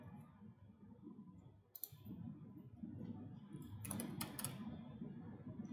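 Mouse clicks on a computer while working with a pivot chart in Microsoft Excel, a few sharp clicks near 2 s and a cluster around 4 to 4.5 s over a low room hum.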